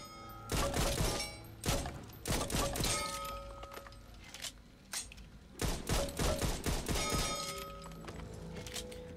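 Rapid bursts of M1911 pistol gunfire in the Back 4 Blood video game, sharp cracks fired in quick clusters separated by short pauses, loud and close with no talking.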